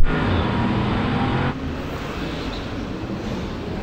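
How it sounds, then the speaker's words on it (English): An Audi RS on Pirelli winter tires launches hard off the line in a snow drag race, its engine roaring loud and steady, then dropping to a lower, continuous drone as it pulls away. "The way this got off the line, the winter tires just bit in and it just rocketed off."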